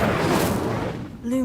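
A fire spell, Incendio, cast in Hogwarts Legacy, gives a dense blast of noise followed by a short whooshing flare near the end, all fairly loud and close.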